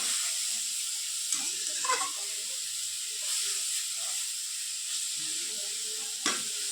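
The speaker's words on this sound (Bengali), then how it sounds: "আর একটু ভাজবো, ভেজে হতে নামিয়ে নেব।" Rai shak greens fry in a pan with a soft, steady sizzle and hiss, broken by a few faint stirring scrapes and taps spaced apart.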